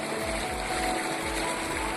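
Water spilling out of a rice field like a small waterfall makes a steady, close rushing flow throughout, with no talk.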